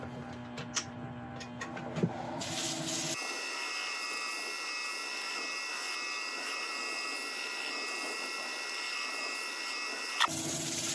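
A wood lathe spins a spalted sycamore bowl while finish is buffed in, making a steady, high whirring hiss with a sustained tonal whine. Clicks and handling noises come before and after the run, with no talk.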